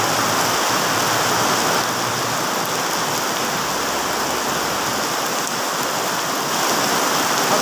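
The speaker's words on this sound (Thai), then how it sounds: "วันนี้ฝนตก" Steady, dense hiss of rain pouring down without a break, loud and continuous with no voices or other sounds standing out.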